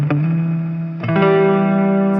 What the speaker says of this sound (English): what I like out of an amplifier's reverb, like, you know, like a Fender style reverb